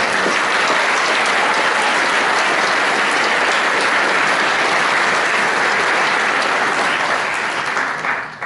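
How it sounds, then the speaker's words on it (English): A large audience at a school senior prize giving applauds award winners and scholarship recipients with steady, dense clapping that fills the whole stretch, loud and unbroken before tapering at the very end. "I'd just like one more round of applause for all the award winners and scholarship getters and all the amazing students."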